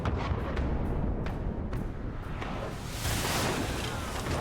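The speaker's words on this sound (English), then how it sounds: "Distant thunder, fire, cannon fire echoes." Cannon fire from ships in the Pillars of Eternity 2 video game: rumbling booms and bursts roll through a dense, continuous din, louder toward the end, with no voices.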